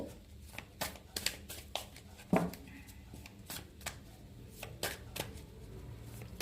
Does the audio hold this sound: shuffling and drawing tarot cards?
yes